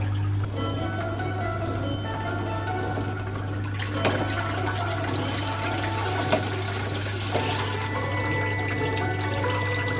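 A vintage washing machine drains water into a sink, a steady, continuous rushing gush with a constant low mechanical hum beneath it, close and alone throughout.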